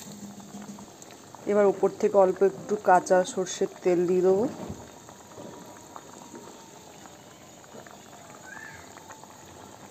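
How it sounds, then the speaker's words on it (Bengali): Mustard hilsa curry gravy boils steadily in a pot with a soft, continuous bubbling that runs through the whole stretch, partly under a few seconds of speech. "এই দেখো ঝোলটা কেমন ফুটছে"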